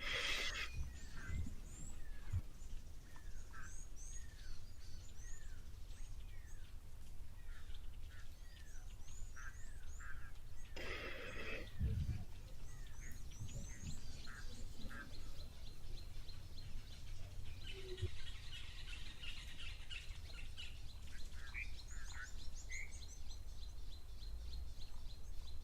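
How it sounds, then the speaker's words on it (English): Egyptian geese call at an African waterhole, repeated short honking and chattering notes scattered over a steady outdoor background, moderately distant, with a few louder bursts. "this is the family of Egyptian geese that are still around"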